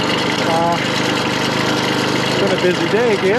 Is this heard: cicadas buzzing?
no